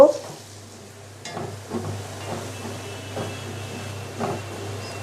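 Gram flour (besan) frying with garlic in a pan: a low, steady sizzle and hiss with occasional stirring scrapes, close and fairly quiet, no speech.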